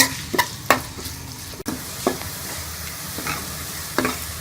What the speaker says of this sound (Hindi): मैंने कढ़ाई में 2 चम्मच घी के डाल दिया। इसके अंदर मैं ये प्याज डाल दूंगी। थोड़ा सा ब्राउन कर लेंगे।